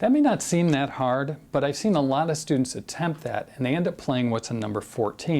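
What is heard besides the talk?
No distinct noise like a dog, phone or traffic.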